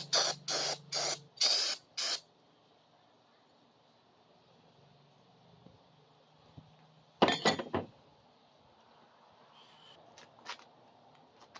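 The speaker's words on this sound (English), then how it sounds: "I'm just going to give it a quick hosing." Short bursts of hose spray rinse a juggernaut driver part, four quick loud spurts at the start, then near quiet, a sharper burst around the middle and faint trickles afterward.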